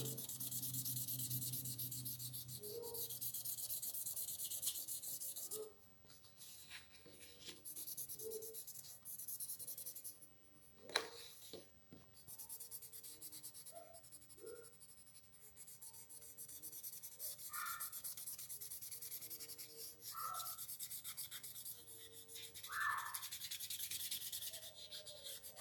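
Pencil shading and blending on paper for a simple contour drawing: soft, close rubbing and scratchy strokes in irregular bursts, with brief pauses and one sharp tap partway through.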